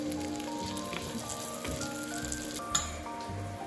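Pieces of eel fry in melted butter in a pan for an Alsatian fish choucroute, a steady close sizzle and crackle that stays even throughout, with one brief knock of a utensil near the end and no talking.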